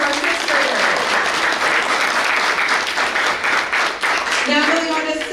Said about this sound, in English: Round of applause for our 6th grader.